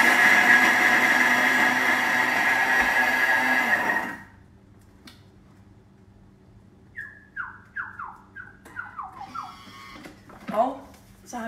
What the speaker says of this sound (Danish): Jeg tager bare lige den her og blender.